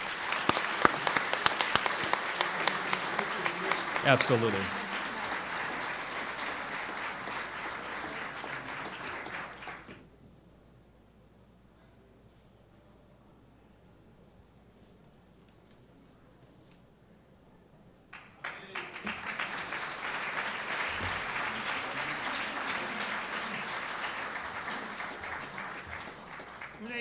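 An audience applauds someone at a Brooklyn Italian-American heritage celebration, a long steady burst of clapping that breaks off into a quiet gap before a second round of applause rises again; a brief spoken reply comes in early.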